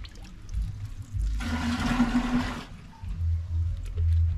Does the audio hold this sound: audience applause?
no